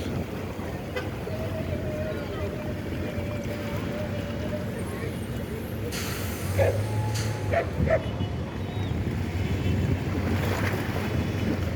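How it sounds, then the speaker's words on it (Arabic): Small and large fishing boats, trawlers and net boats, at Alexandria harbor. A boat engine hums steadily against lapping waves and wind, a dog barks at a distance, and voices can be heard nearby. "جميع أنواع مراكب الصيد هنا، مراكب صيد صغيرة ومراكب صيد كبيرة"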